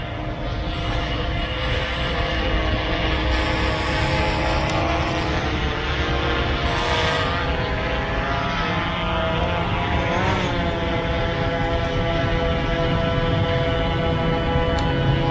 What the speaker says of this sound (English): So the drone is very quiet, you can hear that, and I'm actually next to it